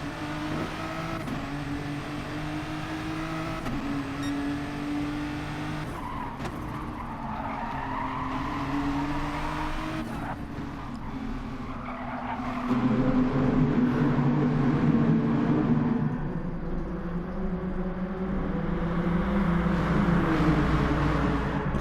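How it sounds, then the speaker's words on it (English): Race car in a racing video game power-sliding through a corner, its engine droning steadily with tyres skidding and squealing, the sound swelling louder midway and holding strong to the end, with no talk. "Power sliding around the corner."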